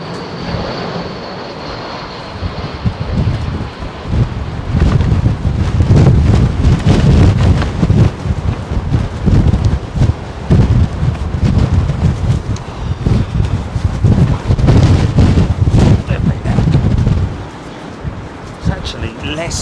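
Strong wind buffets a microphone outdoors at London Heathrow Airport, a heavy low rumble that swells and gusts for most of the stretch, with a distant aircraft-like drone and someone speaking beneath it.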